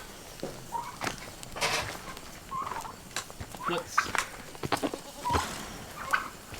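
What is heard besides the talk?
turkeys gobbling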